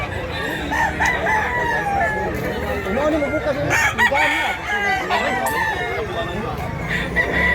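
Roosters crow repeatedly amid a busy backdrop of clucking fowl and some nearby voices in Mantalungon, Barili, Cebu, the calls rising over steady barnyard noise.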